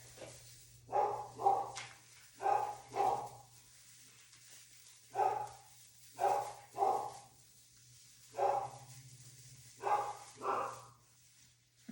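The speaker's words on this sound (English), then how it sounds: "That's Phoebe barking at the yard people." A dog barks at people in a yard, giving repeated short bursts of two or three barks with pauses between, clear and fairly close, over a steady low hum and with no talk.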